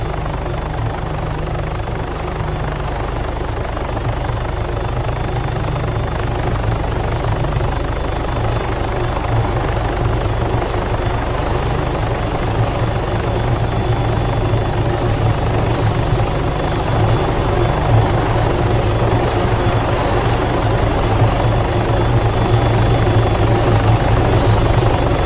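A helicopter in the video game Arma 3 drones continuously with a loud, steady rotor thrum and engine whine, close and unbroken throughout, with no voices over it.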